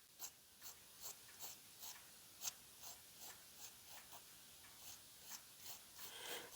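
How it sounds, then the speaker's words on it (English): Pencil drawn in short, repeated scratchy strokes across card, quiet and close, a steady run of light rasping marks with no voices. "Maybe I better do a pencil line first."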